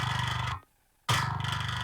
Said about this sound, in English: That's where we're getting the majority of the distortion of the bass sound.